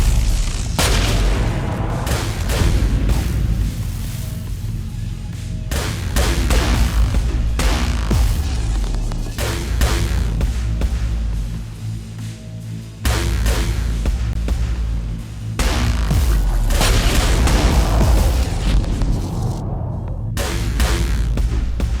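Rockets exploding in the space combat game Trigon: Space Story. Heavy, booming blasts and rapid weapon fire roll on loudly and almost without pause, with a short lull partway through.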